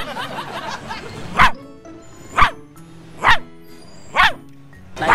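A small dog barks four times at a steady pace, sharp and close. Before the barks, quieter whimpering or chattering sounds are heard.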